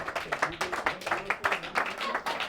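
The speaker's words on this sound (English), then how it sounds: "I feel like you're already clapping," An audience at a panel event claps in a dense, moderately loud patter of many hands, with some talk mixed underneath.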